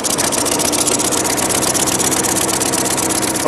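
A steady, loud alternative-energy engine mounted on a lawnmower runs continuously at close range, with a dense, even rattle and no pauses or talk.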